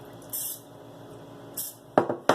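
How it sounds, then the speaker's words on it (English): Two short hissing sprays from a cooking spray can, close by, followed by a couple of sharp clicks or knocks. "Okay, small amount of spray. Spray the top."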